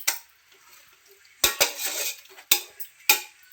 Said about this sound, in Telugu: దీన్ని మెల్లగా ఆయిల్ వేసినాం కాబట్టి కలుపుతున్నాము